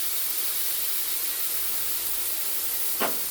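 Spice paste of garlic, tomato and chopped chilli sautéing in a pan for rui posto, a steady loud broadband hiss throughout with a brief scrape near the end.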